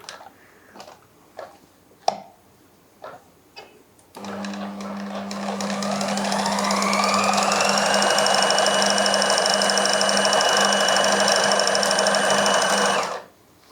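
A sewing machine stitching dori piping runs close and loud for about nine seconds as a steady, rapid mechanical whirr, after several light taps and clicks.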